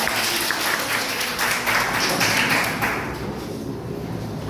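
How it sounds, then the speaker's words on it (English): Classroom applause from young students at a school quiz competition, a steady dense patter of many hands clapping at once that fades slightly toward the end, with a little talk mixed in. "Clap for us."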